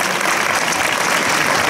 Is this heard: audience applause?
yes